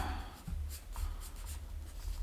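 A pencil drawing on paper, close soft scratchy strokes repeating in short bursts over a low steady hum, with no talk.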